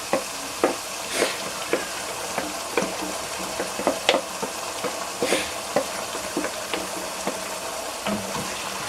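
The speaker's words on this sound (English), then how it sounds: "I'm gonna leave the tomato also to cook also a little bit" Tomato sizzles in a pot with onions and pepper fried very dry for egusi soup, a steady close crackle broken by regular spoon scrapes and stirring knocks against the pan.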